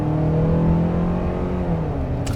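2022 Hyundai Santa Fe XRT engine, 191 horsepower, accelerating at full throttle, a loud steady droning rise in engine note heard from inside the vehicle, with no talking.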